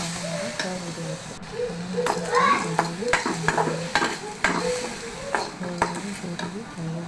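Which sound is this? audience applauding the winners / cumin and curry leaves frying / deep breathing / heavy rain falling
cumin and curry leaves frying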